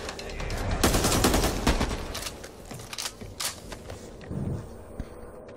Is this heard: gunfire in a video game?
yes